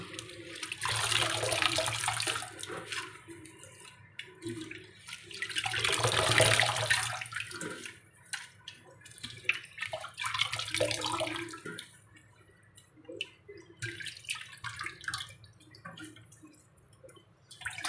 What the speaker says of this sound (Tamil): இப்போ நாம் இதை கழுவி எடுத்துக்க போகிறோம்